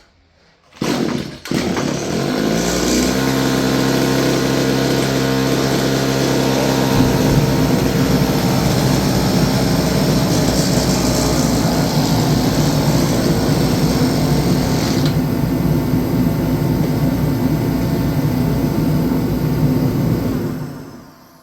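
Thirty-year-old Stihl FS56 curved-shaft string trimmer engine starting with a quick pull, then running loud and close at a steady, buzzing two-stroke drone for about twenty seconds before cutting off.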